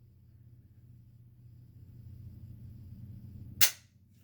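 Howa 1500 rifle's two-stage trigger dry-fired, a single sharp, crisp click near the end after a few seconds of low, quiet background rumble.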